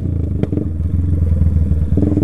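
A Yamaha Fazer 250 motorcycle fitted with a sport exhaust idles close by, its engine putting out a loud, steady low throb with a sharp click partway through.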